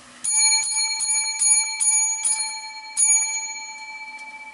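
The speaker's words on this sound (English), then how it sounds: "Okay, 7 lucky bells for this week's Progressive Discussions." A small bell with a bright, ringing metallic tone is struck seven times in an irregular rhythm, close and clear, each strike decaying into a sustained ring, with no talking.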